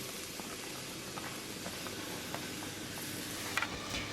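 Chopped carrots, onions, mushrooms and garlic cook in hot olive oil, giving a soft, steady sizzle with faint crackles and pops. It stays quiet and continuous, with no talking.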